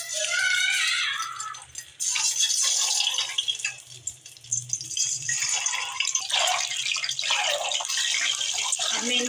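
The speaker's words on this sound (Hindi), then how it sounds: "अब मैं इसको तल लेती हूँ अंडों को" Boiled eggs frying in hot oil in a pan while cooking an egg biryani, giving a steady loud hiss and crackle of sizzling that runs throughout with slight surges, close up.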